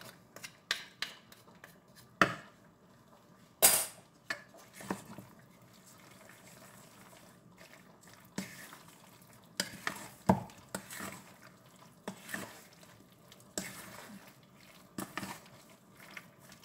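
Spices are stirred into a mix of ingredients with clove, making soft scraping and clicking at an irregular pace, with scattered sharper knocks and one loud clack, all fairly quiet and with no voice.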